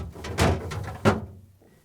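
A refrigerator crisper pan cover on a Frigidaire/Electrolux fridge slides into place with two distinct plastic knocks and a brief scrape, close and fairly loud, followed by quiet.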